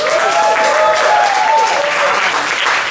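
Loud audience applause for a Texas blues band, dense clapping across the full clip with a voice or tonal sound riding over the top.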